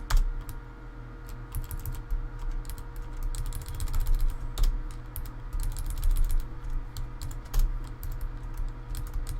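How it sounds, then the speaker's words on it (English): Continuous fast typing on a computer keyboard, close and crisp, with irregular bursts of key clicks and occasional heavier strokes over a low background hum, no speech. "A lot of click, clack, clack, clack off my keyboard"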